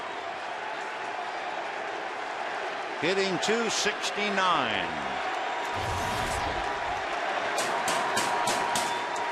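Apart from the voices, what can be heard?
baseball crowd on its feet cheering Manny Ramirez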